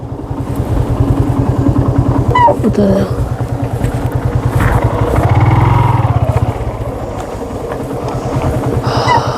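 A motorcycle riding along the road up to the Raireshwar plateau, its engine putting out a loud, steady throbbing drone that swells in the middle, with a voice now and then over the ride.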